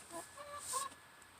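Backyard chickens give a few faint, brief clucks and squawks, heard up close in a quiet outdoor setting.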